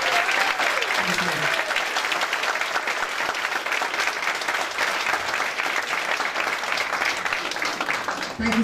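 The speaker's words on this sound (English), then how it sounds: "So please give a very, very rousing round of applause to the Gala Committee" A gala audience gives a rousing round of applause for the Gala Committee at the crowning of the Gatehouse Gala Queen, dense, loud and sustained clapping that holds steady from start to finish.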